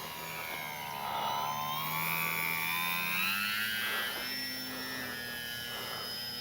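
An E-flite Sportix 1.1 m RC plane with an electric motor on a 4S battery, flying low and tight, producing a steady whining drone whose pitch rises and falls as it passes, moderately close and without talk.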